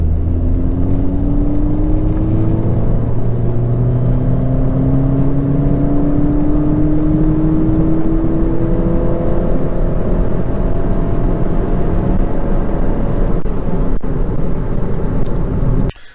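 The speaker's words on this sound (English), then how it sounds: "We're at 2000 RPM, accelerating now." A turbocharged car fitted with a blow-off valve accelerates uphill from 2000 RPM, a loud steady in-cabin engine drone and whir that rises gradually in pitch over several seconds, then cuts off abruptly at the end with no talking.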